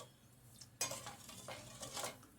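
Sugar and water being stirred in a pot to make syrup, with several scraping and clinking strokes of a spoon against the pot, close and fairly quiet.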